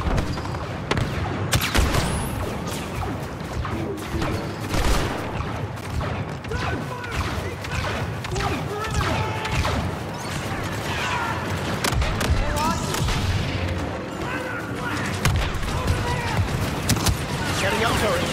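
Steady game combat in Star Wars Battlefront II on Hoth, with rapid blaster fusillades, crashes and booming explosions throughout, under frequent shouted voice lines from soldiers.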